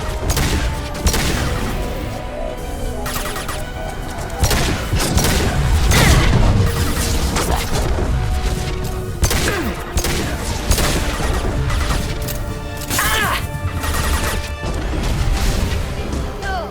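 Rapid bursts of gunfire in Mass Effect 2 crack and crash over and over, loud and close, with heavy impacts layered throughout.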